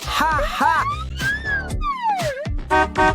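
A voice imitates a wailing siren with rising and falling tones, mixed with laughter and short spoken bits.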